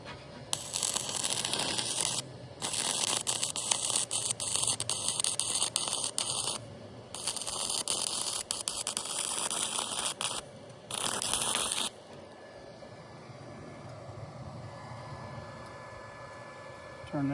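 A stick welder arc-welding steel, several long stretches of loud, crackling, hissing buzz broken by short pauses, heard close before quieting to faint room noise.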